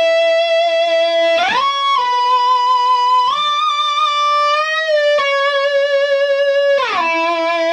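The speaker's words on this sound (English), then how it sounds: "it electrically vibrates the strings like an electronic bow" Electric guitar strings sustained by an Ebow electronic bow give long, smooth, singing tones with no pick attack. The notes glide and slide from one pitch to the next, held steadily and played loud and close with nothing else in the background.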